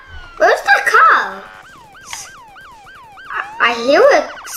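An emergency vehicle siren in the Roblox game Emergency Response: Liberty County wails in rapid rising whoops between bursts of a player's excited voice, moderately loud and close.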